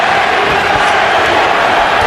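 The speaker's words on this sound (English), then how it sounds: "Pacquiao crowd chanting Manny, Manny, Manny" Boxing arena crowd at Pacquiao vs Morales 2 chanting for Pacquiao, a loud, dense roar of many voices that sounds continuous and far off.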